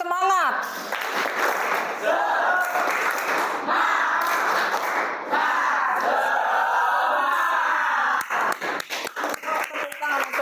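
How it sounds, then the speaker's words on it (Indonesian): Ninth-grade students in a classroom perform a rhythmic clapping chant with group shouting, followed by scattered claps and voices at the end. "Semuanya coba tepuk semangat."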